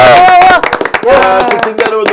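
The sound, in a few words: studio hosts applauding to thank viewers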